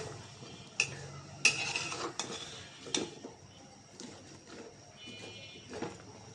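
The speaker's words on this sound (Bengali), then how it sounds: "একটু নাড়াচাড়া দিয়ে দিলাম" A spoon stirs sweet pumpkin with bay leaf and spices in a cooking pan for a small-shrimp pumpkin curry, giving a few scattered scrapes and clinks against the pan over soft background noise.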